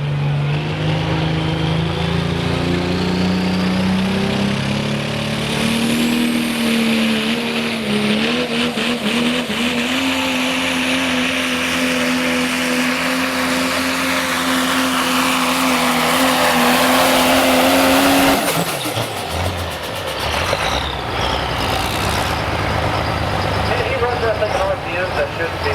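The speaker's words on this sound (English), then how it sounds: "Spinning that motor as fast as that and still holding together." A Dodge pulling truck's engine revs at very high speed for a long, loud stretch, its pitch slowly climbing before it abruptly drops and winds down near the end, with an announcer talking over it.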